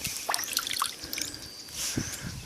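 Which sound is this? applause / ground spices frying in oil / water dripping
water dripping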